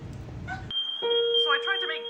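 Fire alarm sounding in a hotel: a steady high electronic tone that starts partway through and holds, joined by a second lower tone, with people talking over it and a burst of noise at the start.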